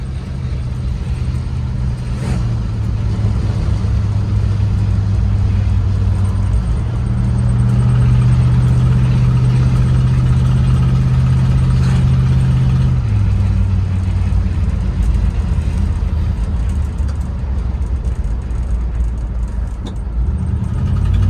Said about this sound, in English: That exhaust leak's pretty annoying.